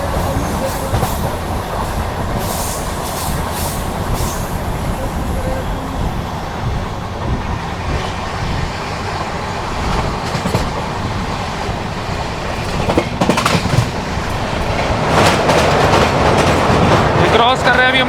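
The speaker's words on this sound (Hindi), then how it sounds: "ओहो साइड से एपी संपर्क क्रांति क्रॉस हो रही है, तो ट्रेन देख रहे हो आप, एपी संपर्क क्रांति आ रही है बगल से।" AP Sampark Kranti express train passing close alongside on the adjacent track near the Betwa river, a loud steady rumble with clickety-clack of wheels over rail joints that swells toward the end.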